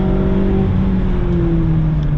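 A 2019 Mazda MX-5 ND2 RF sports car with a BBR exhaust accelerates at full throttle, its engine holding a steady, droning roar, a continuous low hum with a slowly falling pitch, loud and close throughout.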